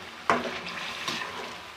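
Chicken masala being stirred into spices frying in oil for a chicken and cauliflower dish, soft sizzling with two scraping stirs of a utensil in the pan, close and moderately quiet.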